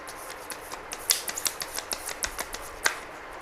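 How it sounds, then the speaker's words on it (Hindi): A deck of cards being shuffled by hand, close up, with a quick run of crisp clicking flicks and a couple of louder snaps, no voices. "एक बार ये वाले कार्ड भी हम शफल कर लेंगे।"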